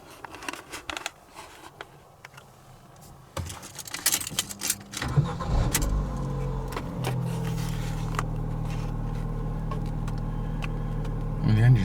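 A Ford Fiesta Mk6 with the 1.25 Duratec engine cranks and catches after some clicks and rattles, then settles into a steady low idle hum close by, with brief speech early on.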